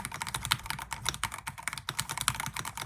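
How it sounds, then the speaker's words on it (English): Typing on a Firstblood B87 fully clear acrylic mechanical keyboard, a steady run of bright, close keystrokes clacking in quick irregular rhythm for a few seconds, heard alone with no voices. "This is the Firstblood B87, and it's a fully clear acrylic keyboard."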